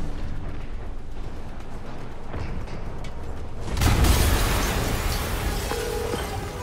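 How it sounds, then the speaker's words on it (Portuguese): A deep explosion booms partway through a scene in the video game Marvel's Spider-Man, a rumbling blast that swells out of a low murky background and lingers as a dense roar. "uma explosão."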